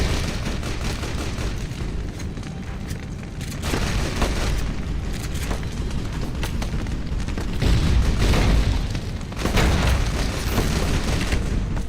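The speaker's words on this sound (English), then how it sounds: "That carpet bomb would have killed everyone." Carpet bombing in Fallout: New Vegas: deep, heavy booms roll continuously with a low rumble, swelling louder around the middle and late stretch, with no voices over them.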